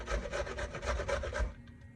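A zucchini is grated by hand on a grater, making about six quick rasping strokes in a steady rhythm that stop abruptly after a second and a half, close up with no voices.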